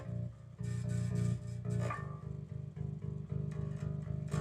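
A bass guitar is picked on a clean tone, giving a quick run of low, evenly plucked notes with a short rising fill in the middle, close and fairly quiet, with no voices.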